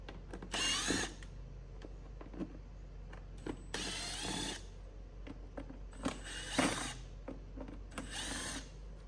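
A power drill spins out T25 bolts from the stock airbox of an Audi B8/B8.5 S4 3.0T in four short, loud whirring bursts, with quiet pauses and small handling clicks between them.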